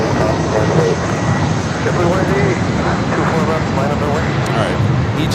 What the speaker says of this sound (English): Egypt Air heading up here for north side and takeoff flight, heading back to Cairo, Egypt.